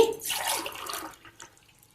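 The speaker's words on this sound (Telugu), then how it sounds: "మూడున్నర గ్లాసుల నీళ్లు పోసుకున్నా అండి" Water poured onto washed rice in a pot while preparing Rayalaseema-style sangati, a steady splashing pour for about a second that then trails off into faint drips and trickles.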